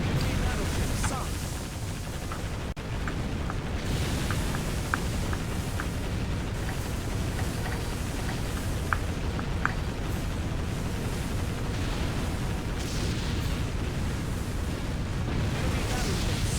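Heavy, rumbling explosions and booming blasts from an enemy battleship sinking in the naval video game Warship Gunner 2, a steady dense roar with scattered sharper bursts throughout.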